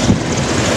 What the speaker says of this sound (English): you can see a helicopter about to take off